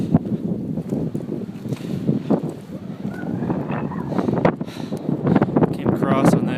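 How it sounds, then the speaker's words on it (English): Strong wind buffets the microphone on a mountain hike up Borah Peak, a steady loud roar with gusts throughout, while a person talks over it. "if you can even hear me with the wind"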